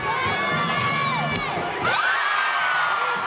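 A sold-out crowd at the University of Utah's Huntsman Center cheers at a women's gymnastics meet, loud continuous roaring with high-pitched screams and whoops rising and swooping above the din.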